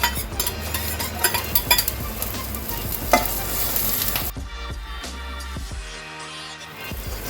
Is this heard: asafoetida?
yes